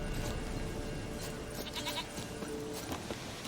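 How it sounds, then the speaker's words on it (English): Goat bleating in The Witcher 3, faint and intermittent against a steady outdoor ambience, with a few short wavering calls from a stubborn horned goat somewhat distant. "Here, goat."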